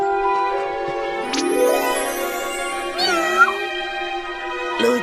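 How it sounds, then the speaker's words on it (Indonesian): A cartoon cat meows several times in plaintive, rising and falling cries, fairly close and clear over a quiet background, with a short sharper cry near the end. "Dia kasihan dengan seekor kucing"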